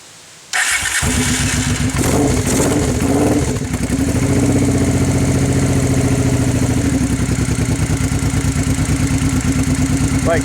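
Honda Hawk GT motorcycle engine cranks and catches, then settles into a steady, close, throbbing idle while warming up, loud and continuous with no talking.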